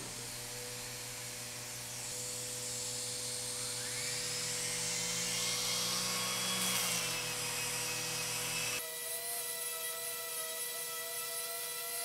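A NARBELL random orbit sander spun up to its full 14,000 RPM gives a loud, steady high-pitched whine that climbs a little, then cuts off sharply, leaving a faint lingering hum.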